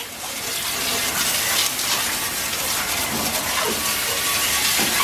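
Water from a hose sprays steadily onto an engine part from an SR20DET, a continuous, close, loud gushing hiss with no talk.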